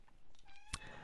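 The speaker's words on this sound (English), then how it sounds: "she's meowing a lot" A house cat meows in the background, a short faint vocal cry with a sharp louder sound partway through, heard alone during a pause in a lecture.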